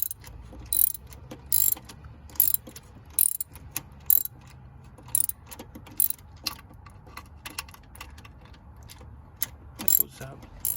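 A ratchet wrench tightens the distributor bolt on a Nissan Xterra engine, with repeated short bursts of clicking pawl strokes in an irregular rhythm, close and fairly crisp, with quiet pauses between strokes.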